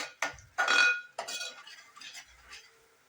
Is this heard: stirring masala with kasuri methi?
yes